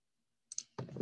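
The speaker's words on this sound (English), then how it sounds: "clicking to add a page" A computer mouse gives a quick pair of crisp clicks in a quiet room while a page is added to a multi-page sales website, followed by a brief burst of louder noise.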